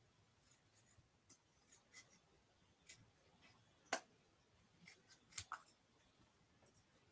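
Scissors trim paper for a stamping craft project, making a string of crisp, close snips spread unevenly through the quiet clip, some short and light and a few louder and sharper.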